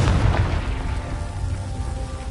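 A Confringo blasting spell detonates in Hogwarts Legacy, a loud, deep explosive boom at the start that rolls off into a sustained rumbling decay.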